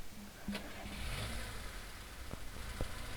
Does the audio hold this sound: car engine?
yes